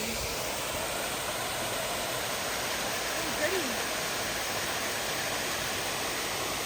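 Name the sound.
waterfall on the PA Grand Canyon loop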